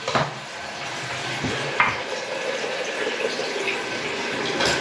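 Water runs steadily from the cold feed of a newly fitted mixer shower valve during a bathroom remodel, a continuous hiss and splash at close range, with a few sharp knocks and clicks against it.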